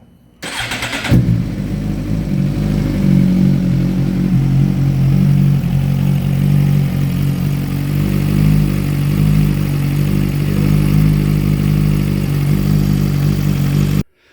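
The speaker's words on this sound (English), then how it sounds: "All right, time to fire up, check for leaks" A Suzuki GSX-R 1000 sportbike fires up in neutral with a sharp burst, then settles into a loud, steady, close-up idle rumble that runs unbroken for about thirteen seconds before cutting off.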